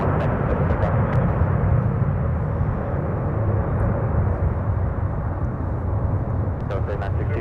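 A jet airliner powers up for takeoff on runway 17 at Minneapolis–Saint Paul airport, a loud, steady broadband engine roar filling the whole clip, while a voice speaks over it.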